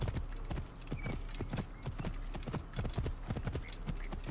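A horse gallops in the game Assassin's Creed Origins, hoofbeats pounding in a fast, driving rhythm, close and prominent throughout.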